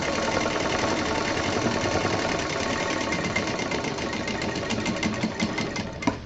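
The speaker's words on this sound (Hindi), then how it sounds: "और अब हमें यहाँ पर बीच में सिलाई चलानी है।" A sewing machine stitches fabric for a cosmetic pouch, running in one continuous rapid mechanical whir up close, with the needle's fast rhythmic chatter holding steady from start to finish and no speech.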